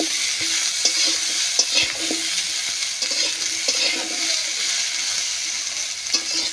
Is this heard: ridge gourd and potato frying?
yes